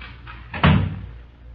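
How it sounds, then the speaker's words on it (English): A door swung shut indoors in an office, one solid thud near the middle of a quiet room, followed by a short fading resonance. "close that door"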